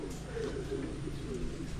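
Soft, repeated cooing of pigeons or doves, low and rounded, over a steady background hum.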